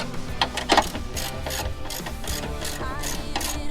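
Ratchet wrench tightening the battery hold-down on a fifth-generation Toyota 4Runner, a rapid series of close, crisp clicking pawl strokes repeating steadily in short bursts.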